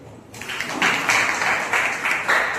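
A church congregation at a Sunday service claps together, a steady, moderately loud wash of applause that starts abruptly and continues to the end, with some voices mixed in.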